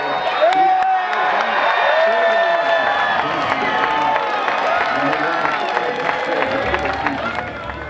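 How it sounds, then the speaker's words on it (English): Fans of the University of Arizona Wildcats men's basketball team cheer and whoop at a St. Phillips Plaza watch party as their March Madness seeding is announced, a loud, steady crowd roar with scattered clapping and voices throughout. "Plenty of cheering and smiles among the players, coaches, and U of A fans"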